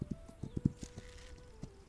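Hooves of a horse clip-clopping in a survival strategy video game, a quick uneven run of thuds at moderate loudness under a faint steady tone, without speech.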